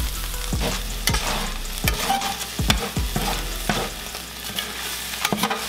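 A utensil scrapes and stirs green beans, cauliflower and pulled pork in a frying pan, loud sizzling underneath with irregular knocks against the pan, close and without talk.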